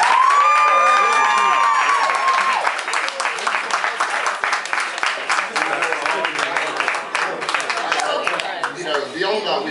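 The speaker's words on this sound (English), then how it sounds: "So those guys need to be given a round of applause." An audience at a medical school awards ceremony breaks into loud applause with cheers and whoops, sustained clapping filling the room close by while a few voices shout over it.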